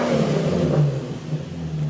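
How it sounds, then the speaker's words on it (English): Car engine with the muffler deleted and a straight-pipe exhaust, revved while still cold, giving a loud, rough, steady rumble that swells and eases slightly over two seconds, with no talking. "I'll give you guys a rev test right now."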